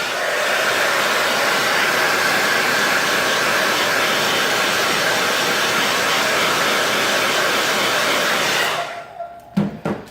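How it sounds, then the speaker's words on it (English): A hair dryer blows steadily and loudly at close range, drying freshly applied false eyelashes, then cuts off near the end, leaving a few short clicks and handling knocks. "Now that's had a chance to set a little, I'm gonna blow dry them again."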